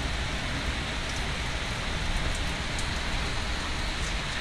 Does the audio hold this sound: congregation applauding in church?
no